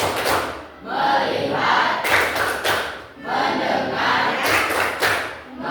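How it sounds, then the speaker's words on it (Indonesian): A classroom of students does a rhythmic clapping-and-chanting focus routine, with loud group voices and sharp, even bursts of claps repeating in regular phrases. "Sekarang tepuk fokus"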